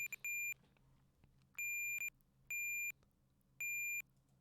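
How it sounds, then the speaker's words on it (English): Electronic beeping from Tetris in short repeated bursts, a quick double beep then three longer evenly spaced tones, clear and synthetic with no voices. "Okay, enough beeping."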